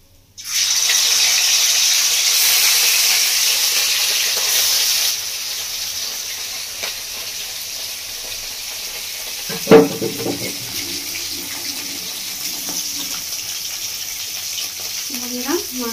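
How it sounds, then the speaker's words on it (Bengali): Fish sizzles in a pan with a steady frying hiss for a few seconds, then the sound thins to a quieter background with a clatter of utensils and faint kitchen noise. "আর একবার পাতি মাছটা ভেজে নেব।"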